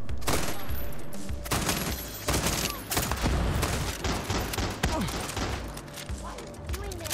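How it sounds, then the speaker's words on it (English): Gunfire in the video game Far Cry 6: a dense, continuous burst of rapid shots and heavy booms, loud and cluttered with mechanical clatter and game effects, running for several seconds without a break. "Nice gun sound effect."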